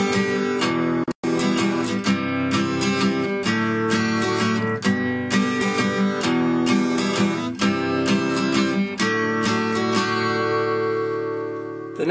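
Strummed acoustic guitar plays a syncopated rhythm in 3/4 time, dense bright chord strokes with offbeat accents and a brief gap near the start, close-miked and with no voices.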